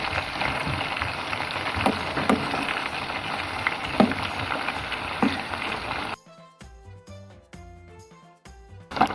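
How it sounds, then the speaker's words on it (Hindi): Finger fish frying in a pan after being flipped over: a busy spattering crackle with small metallic clinks for about six seconds, then it cuts to music. "अब हम दूसरी तरफ से इसको पलट के फ्राई कर लेंगे 2 मिनट के लिए।"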